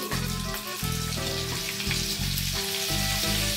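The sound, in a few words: frying in Amul butter in a pan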